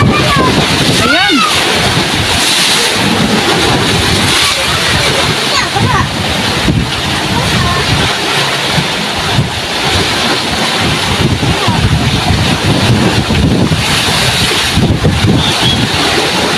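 Strong wind and rough waves surround a small fishing boat at sea, with heavy wind buffeting the microphone and surf churning loudly and continuously throughout.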